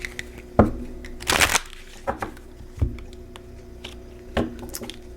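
Tarot cards being handled and shuffled indoors: a brief papery riffle among scattered soft taps, flicks and rustles, close and fairly quiet.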